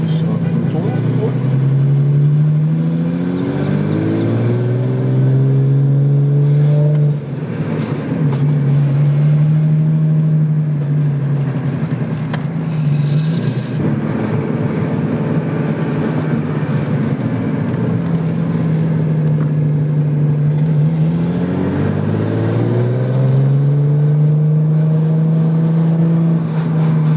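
A Lexus with a swapped-in 2JZ engine drives along, its low engine drone rising in pitch as it accelerates, dropping back and climbing again across the drive, while people talk inside the car throughout.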